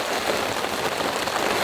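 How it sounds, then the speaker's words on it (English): Heavy rain pours down steadily during a winter storm, a dense, constant hiss of drops close by with no letup. "And there's no end to this heavy rain in sight."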